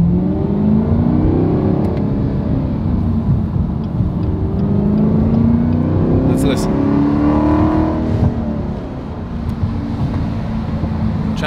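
A loud, deep exhaust from a 2018 Camaro ZL1 with the secondary catalytic converters removed rumbles and rises as the car accelerates, heard from inside with a steady droning roar and shifting pitch.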